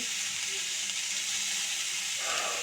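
Carrots, beans and capsicum cook in a pan with a steady, close hiss and sizzle of steam that stays even throughout and swells slightly near the end, with no talk.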